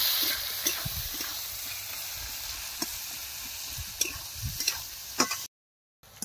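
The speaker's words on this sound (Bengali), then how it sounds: "এবার পেঁয়াজটা বেরেস্তে করে নেব।" Six large onions fry in a pan toward crisp birista for biryani, giving a steady soft sizzle broken by repeated stirring scrapes and taps, moderately close, with no talk before a brief silence near the end.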